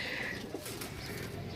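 Golden pigeons at a bird market in Gujarat coo softly at close range over a low background hum.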